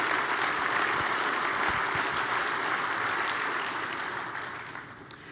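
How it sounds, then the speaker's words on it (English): Sustained audience applause fills a conference hall at a wind energy industry convention, dense and steady throughout before easing slightly near the end. "Give yourselves a round of applause, please, for all of these accomplishments in each of those four pillars."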